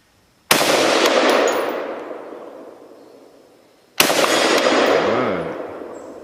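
Two loud FS2000 rifle gunshots ring out a few seconds apart, each a sharp crack with a long echoing tail that fades outdoors.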